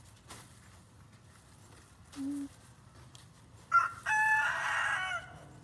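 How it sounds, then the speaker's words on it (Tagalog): A rooster crows loudly nearby, a short call followed by a longer, strained crow, preceded by a brief cluck against quiet background. "Ayan na naman yung manok."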